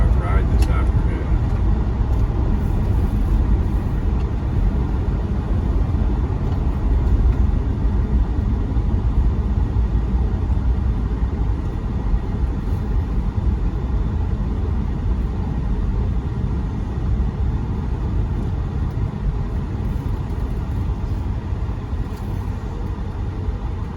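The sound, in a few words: manual C6 Corvette with LS2 engine driving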